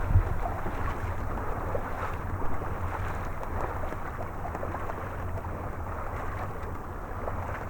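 Steady west wind blowing outdoors on a clear day along the Moray coast, a continuous low rushing buffet against the microphone with no talking.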